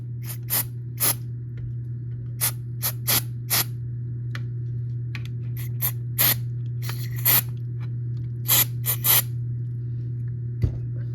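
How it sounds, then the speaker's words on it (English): Short hissing bursts of electronics cleaner sprayed onto the controls of a 1980 Atari four-switch woody console, coming in quick irregular clusters over a steady low hum, with no voices. "I'm going to clean these controls with some electronics cleaner"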